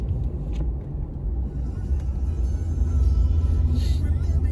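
A car drives along a snowy road in Washington, heard from inside as a steady low rumble that grows slightly louder and heavier toward the end, with no clear voices.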